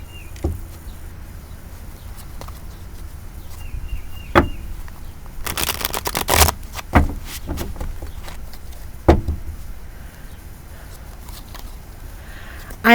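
A deck of tarot cards gets a quick shuffle, heard as a dense papery riffle burst midway through an otherwise quiet room, with a few scattered light taps and handling noises before and after.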